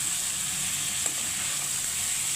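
Pointed gourd, already fried, sizzles in spice masala in a pan for a potol chingri dish, a steady close hiss with one small knock partway through.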